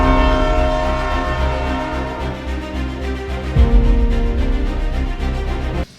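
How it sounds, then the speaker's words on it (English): Union Pacific Big Boy steam locomotive in Train Simulator 2024, a loud sustained whistle chord over a deep rumbling engine, shifting pitch midway and cutting off sharply at the end. "We're going to drive today the Union Pacific Big Boy by Smokebox."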